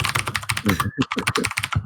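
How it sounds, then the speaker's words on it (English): Someone types fast on a loud, clacky computer keyboard, a dense run of sharp keystrokes with a brief pause midway. No talking is heard. "my partners in one of my projects says that my keyboard is super annoying. I can give you a sample."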